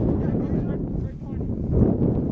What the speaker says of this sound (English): Rather cold day, cold and windy day.